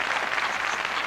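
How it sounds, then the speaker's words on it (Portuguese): Audience applause on a Brazilian TV variety show, a steady dense wash of clapping held at an even level for about a second, with no voices standing out above it. "Cadê as palmas, gente?"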